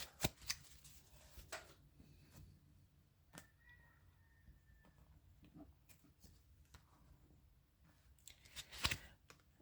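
Tarot cards being cut and shuffled by hand, with soft papery riffles and taps scattered across the stretch and a sharper burst of card handling near the end, close and quiet with no talk.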